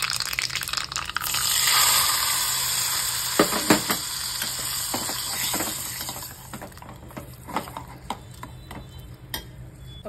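Hot oil tempering with a pinch of asafoetida is poured onto a Marathi radish koshimbir, a sharp burst of sizzling crackle that settles into faint scattered ticks and pops from stirring, close and quiet, with no talk.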